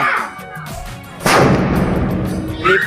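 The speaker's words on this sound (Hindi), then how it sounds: "जहाँ से फटाका फोड़े बस भाग जा" A firecracker bursts with one loud, close bang at a home celebration welcoming a baby boy, its rumble and crackle trailing off over the following seconds, with faint voices before it.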